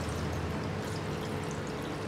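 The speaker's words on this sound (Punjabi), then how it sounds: "ਇਹ 'ਚ ਠੰਡਾ ਪਾਣੀ ਐਡ ਕਰਾਂਗੇ ਆਪਾਂ" Cold water pours steadily into a cooking pot for making pasta, a continuous close rushing splash with no talk over it.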